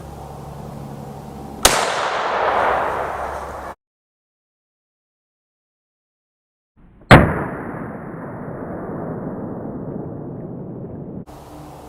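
Two sharp, loud gunshots from a 10mm 180 grain full metal jacket round fired through a 12 gauge caliber adapter into ballistics gel, each followed by a long decaying boom and rumble, separated by a few seconds of silence.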